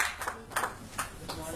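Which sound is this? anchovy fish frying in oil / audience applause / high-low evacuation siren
audience applause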